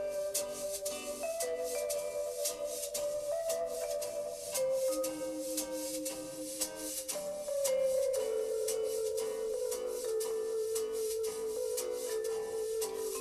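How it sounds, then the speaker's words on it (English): A tune played on vibraphone with brushed drums and jazz guitar: a gentle melody of sustained, wobbling vibrato notes over soft, regular brush strokes, steady and moderately quiet. "The vibraphone's got loads of vibrato and there's loads of sustain built into it"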